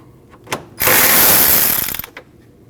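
A hand ratchet loosens the 8mm bolt that holds the fan shroud to the radiator on a 2012-2021 Nissan NV2500 with the 5.6L V8. A couple of faint clicks come first, then a loud, continuous buzzing run of close ratcheting for over a second, with no talking.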